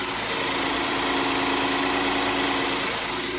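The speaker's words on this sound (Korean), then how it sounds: "지금 영상에서 들리시는 것과 같이 굉장히 정숙하고 규칙적인 엔진 사운드 들려주고 있고요" A Hyundai Grandeur HG sedan engine idles steadily and evenly under an open hood, close and loud, a smooth continuous hum with no speech.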